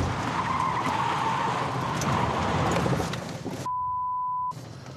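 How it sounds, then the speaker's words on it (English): A car skids hard after braking mid-swerve at 70 km/h, a loud rough tyre screech over engine noise, cut off near the end by a steady censor beep. "When Darius hit the brake, the vehicle's weight pushed forward, making the front end heavier."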